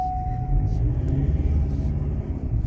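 A Ford Endeavour with a fully automatic gearbox drives along, giving a low, steady engine and road rumble from inside the cabin. A faint voice sits beneath it.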